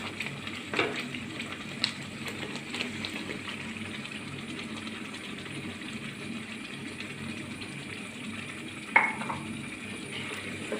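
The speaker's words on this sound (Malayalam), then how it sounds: "നന്നായിട്ട് ഇളക്കി കൊടുക്കുക" Carrot halwa with sugar is stirred in a pan. A quiet, low cooking hiss runs under a few soft knocks and scrapes from the spoon.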